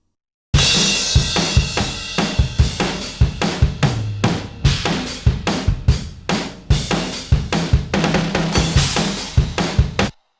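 A drum beat drives along with crashing and washing cymbals over it, bright and loud, kicks and snares keeping a steady groove without any voices.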